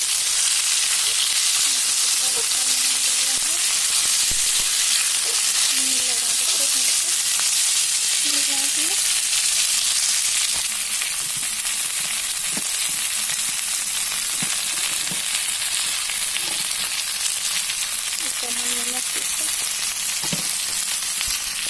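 Onion and tomato frying in a pan for a paneer dish, a loud continuous sizzle and hiss throughout, with occasional stirring clinks and brief faint speech.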